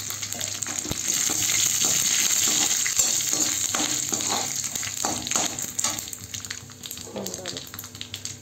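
Mustard seeds, dried chillies and curry leaves crackle and sizzle steadily in hot oil in a kadai, a dense frying hiss with spattering pops, an occasional stir, faint background voices.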